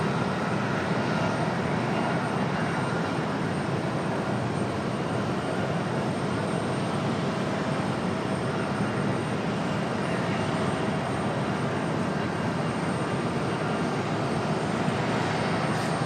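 A United airliner on the ground at Raleigh-Durham International Airport before departure to Houston, its engines giving a steady broadband roar that holds evenly and fairly loud throughout.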